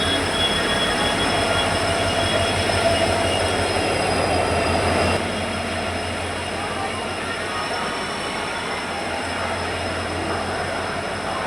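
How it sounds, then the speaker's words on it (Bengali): The Howrah–Puri superfast express rolls into a crowded station platform with a loud, steady rumble of wheels and carriages and a thin high squeal. Voices are heard faintly under the noise. "প্ল্যাটফর্ম নাম্বার 22-এ আমাদের হাওড়া থেকে পুরী সুপারফাস্ট এক্সপ্রেস স্টেশনে ঢুকছে"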